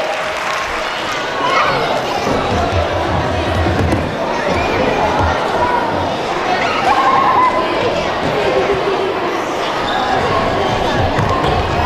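An audience at a daycare's Children's Day celebration gives sustained, thick applause mixed with cheering and crowd chatter, holding at an even loudness for about twelve seconds.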